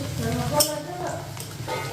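Fish curry cooks in a pan in a home kitchen, with a low sizzle and stirring scrapes and a brief clink, heard close under a person talking.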